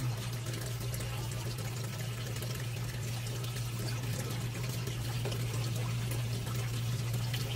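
Water trickles gently into a crayfish container, a soft steady pour running continuously under a low constant hum with no talk.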